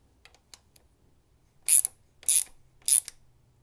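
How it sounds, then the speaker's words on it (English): Three short ratchet bursts from tightening a valve cover bolt on a BMW R1250GS motorcycle, close and crisp, after a few faint clicks and taps. "I will tighten up this valve cover bolt"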